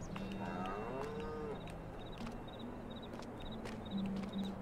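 A cow lets out one short moo in Farming Simulator 22. Faint repeated clicking and low ambient hum of the farm follow.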